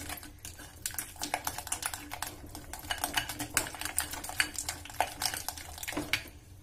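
Homemade butter cream beaten vigorously by hand in a bowl, a fast steady clatter of quick tapping strokes against the container, close and continuous with no talking.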